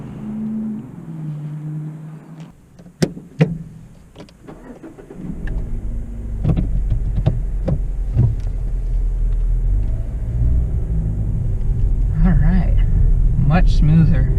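A manual car with an underpowered 1.5-liter four-cylinder engine idles quietly, then rumbles louder as it pulls away and keeps driving, with a steady low engine drone, a few sharp clicks and knocks, and a driver talking over it.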